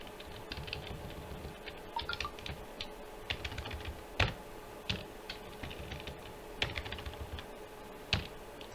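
Code is typed on a computer keyboard in quick, irregular bursts of close, crisp key clicks with occasional louder strikes, over a quiet steady background hum.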